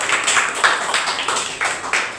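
A classroom of students claps together in quick, uneven bursts, roughly six rounds of hand claps close by with no talking.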